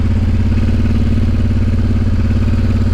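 A 1999 Honda Transalp 600V V-twin motorcycle engine runs steadily at close range, a loud continuous low rumble with an even pulsing beat and no talk.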